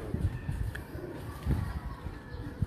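Tiari breeder pigeons on a rooftop loft coo in low, throaty, repeated pulses, close and moderately loud, over a steady background hiss with a few faint higher chirps.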